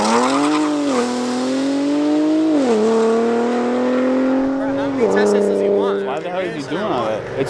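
Loud, close engines of cars at a street race revving and droning, pitch rising and dropping in steps, with shouting voices and a brief tire squeal near the end.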